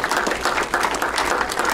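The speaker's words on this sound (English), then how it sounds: "give us the biggest hand of applause for the night" Wedding guests applaud at a reception, a dense, sustained patter of clapping from a crowd that stays fairly even and loud throughout.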